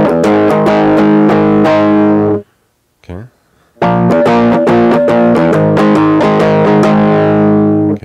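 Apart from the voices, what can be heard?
electric guitar chord progression with distortion effect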